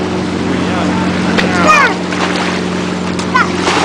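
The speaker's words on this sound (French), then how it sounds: "C'est beaucoup des vagues" Waves churned up by passing motorboats lap and slosh on a lake, a steady wash of water noise under a low engine hum, with a voice calling out briefly in between.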